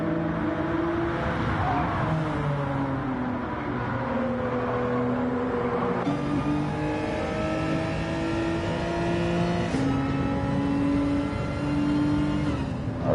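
Racing cars in Gran Turismo 7 rev and shift up through the gears on a hill, with a continuous engine whine that rises and drops at each gear change.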